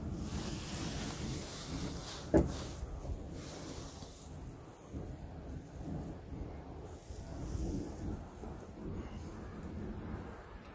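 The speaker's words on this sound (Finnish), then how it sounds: "vähän tuulee, niin täällä ei ole niin lämmintä." Wind blowing around a lean-to shelter by a campfire during a fishing trip, a continuous rushing gust with microphone buffeting, one sharp knock near the start and gentle swells in strength afterward.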